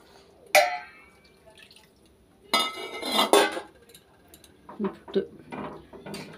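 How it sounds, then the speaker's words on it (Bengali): A bowl coated with oil is rinsed with hot water in a kitchen. There are a few clinks and knocks of a metal bowl, a short splashing pour and dripping, and a brief bit of talking partway through. "বাটির মধ্যে তেলটা একটু ধুয়ে দিয়ে দিই, গরম জল দিয়ে পড়ে যাবে তেলটা।"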